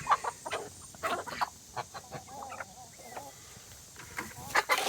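Chickens cluck and squawk on a farm in short, irregular bursts, near and fairly soft, with a low background hum throughout.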